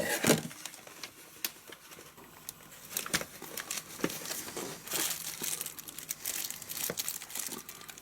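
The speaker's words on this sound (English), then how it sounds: "Using scissors again." Close-up crinkling and crunching of plastic packaging with sharp scissor snips and rustles as a mini PC kit's packaging is cut open, irregular and continuous, no talking.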